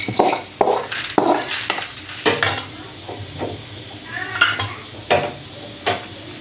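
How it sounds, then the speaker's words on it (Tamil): Roasted chana dal, dry-fried until brown, being pounded. About nine sharp, irregular knocks and thuds land up close, with a little clatter between them and no voices. "கடலைப்பருப்பை தட்டிட்டு"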